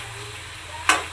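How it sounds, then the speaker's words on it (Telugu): Chicken curry ingredients deep-frying in oil with a steady hiss, then one brief, bright scrape as they are stirred near the end, close and fairly loud, with no talking. "మధ్యలో అయితే ఒకసారి ఇలా కలుపుతూ ఉండాలి."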